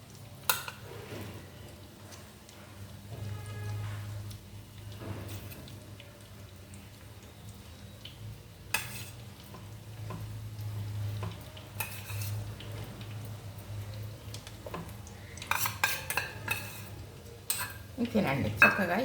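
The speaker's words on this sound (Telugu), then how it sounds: "ఈ గ్రేవీ కూడా దీంతో పాటు ఇలాగా వేగిపోతుంది అన్నమాట" Stuffed brinjals and leftover gravy fry in a pan, giving a quiet sizzle with intermittent scraping and stirring, clatter from a utensil against the pan, and a louder burst of clinks near the end.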